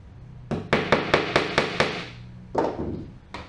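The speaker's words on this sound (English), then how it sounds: "you pound them in just enough to get them started" A hammer taps nails partway into the corners of a wooden drawer, a quick run of about seven close, sharp blows, then a brief pause and a few more strikes.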